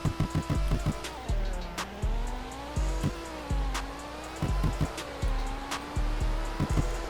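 A 2006 BKM Hofmeister BMW M5 sedan with quad exhaust and a 7-speed manual in a Roblox game accelerates hard, its engine note climbing and dropping through repeated quick gear shifts, with sharp clicks at each change, loud and close.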